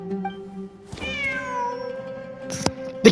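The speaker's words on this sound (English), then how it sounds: "The cat! Wait, there it is!" In the video game Genshin Impact, a cat gives a single long, close meow that rises and slowly falls, followed by a short rustle and a soft thump at the end.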